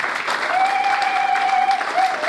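A church congregation at a sermon applauding together in a sustained wash of clapping, with a voice held over it that sounds sung or called out, loud and steady for the whole stretch.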